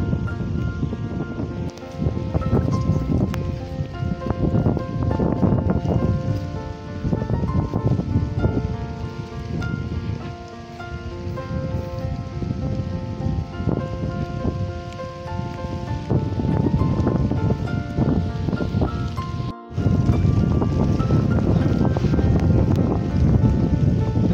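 Heavy rain pouring at a quiet beach near a river mouth at Puri, a loud dense continuous roar of drops with a brief dropout near the end, no clear talk.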